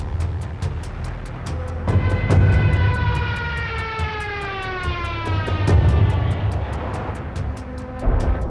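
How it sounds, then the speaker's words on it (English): A World War II dive bomber's Jericho trumpet, a propeller-driven siren, wails in a loud howl that climbs and falls in pitch, with a rapid regular clatter running through it. "The Jericho trumpet a propeller-driven siren tube that made the approaching aircraft with its banshee howl as menacing as some fantastical beast."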